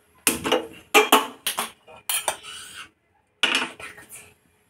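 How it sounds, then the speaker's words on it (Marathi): Metal appe pan being set down on a stove, a series of clanking and scraping contacts in a few quick clusters, then a pause and one more scrape, close and sharp with no voices. "आता हे आपण आप्याचं भांडं ठेवलेलं आहे।"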